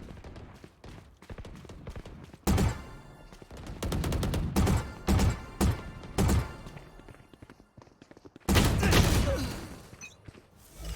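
Rapid bursts of gunfire from shooting in a fast-paced video game, loud clustered volleys separated by brief gaps, with heavy sustained fire near the end.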